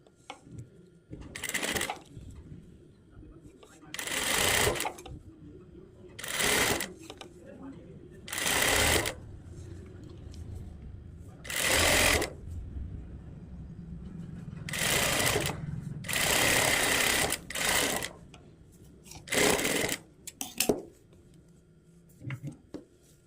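Sewing machine stitching the hook strip of a blouse, with about ten short, close bursts of rapid whirring, each lasting one to two seconds, separated by quieter pauses as the fabric is handled.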